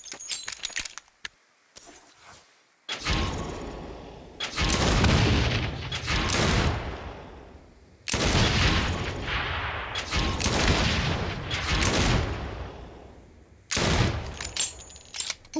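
Gunshots ring out in Saints Row, the 2022 game, in loud clustered bursts of rapid fire with short quiet gaps between volleys. The firing sounds close and there is no talking over it.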